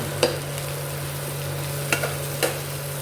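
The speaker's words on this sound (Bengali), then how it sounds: "এই তেলের মধ্যে বেগুন, আলু ভাজা, পেঁয়াজ ভাজা সমস্ত দিয়ে ভালো করে আবার মাছের তেলের সঙ্গে ভেজে নেব।" A constant low sizzle of eggplant, potato and onion frying in fish-frying oil, broken by a few sharp scraping clicks of stirring.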